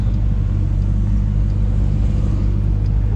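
A Dodge Durango SRT Hellcat engine roars loudly from inside the cabin while driving, a dense, heavy rumble that holds steady throughout.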